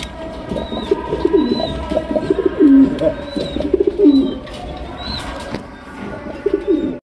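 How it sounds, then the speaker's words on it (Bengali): A pair of white satin pigeons coo in low repeated throaty calls up close, over a busy background of other birds' chirps and a steady mechanical rumble, with no talking. "এখানে রয়েছে একজোড়া শাটিন কবুতর, হোয়াইট কালারের শাটিন, রেয়ার কালেকশন"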